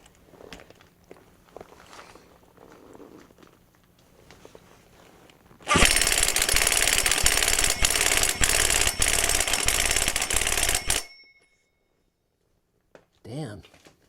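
An impact wrench hammers on the clutch of an Echo CS-370 chainsaw, a loud continuous rattling burst lasting about five seconds that stops abruptly, with quieter handling noise and a voice speaking before and after.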